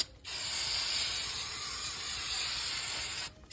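Aerosol brake cleaner sprays onto the head of a two-stroke jet ski engine, soaking off old gasket residue: one loud, steady hiss lasting about three seconds, close by, with no talking.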